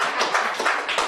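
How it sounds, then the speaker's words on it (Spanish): Congregation applauding during a church Bible study, a dense burst of many hands clapping that keeps a steady level through the short stretch with no talk over it. "Denle un aplauso a Dios por eso."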